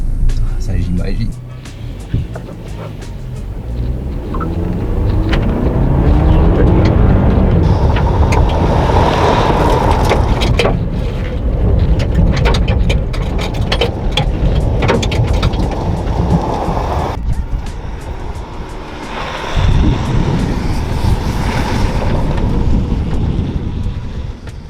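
Ford Ranger pickup engine during a rally-style test drive, a loud, rough drone with rumbling bursts and rattles, heard from inside the cab under ongoing conversation.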